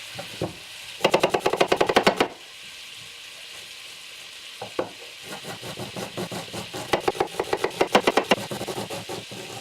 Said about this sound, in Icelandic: Skerjum laukana.